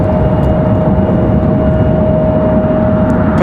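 A Republic Airways jet departs Raleigh-Durham International, producing a loud, continuous low engine roar with a steady tone running through it. The sound stays constant for the whole stretch and no one speaks.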